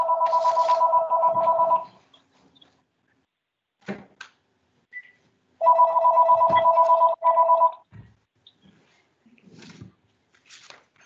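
Electronic telephone tones on a call, two long steady beeping bursts separated by scattered clicks and faint noises, fairly loud against otherwise quiet background.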